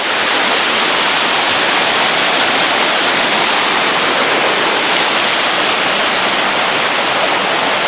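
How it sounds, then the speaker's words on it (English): Rushing mountain river in Switzerland at a plank crossing, a loud, steady roar of churning water filling the whole stretch close by, with no voices. "now we've come to this major river crossing, and they just built some planks"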